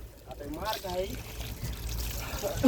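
Water pouring and trickling in a steady stream onto the base of a plant while a person talks over it nearby.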